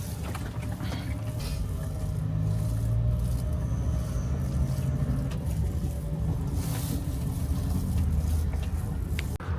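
A small camper van drives along a road, giving a steady low engine drone and rumbling road noise with intermittent rattles and hiss, heard from inside the cabin without talk.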